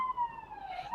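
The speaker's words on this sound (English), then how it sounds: "wait for the sirens to go by" Emergency vehicle sirens pass by outside, a steady wailing tone that rises and falls, moderately loud and alone with no talk.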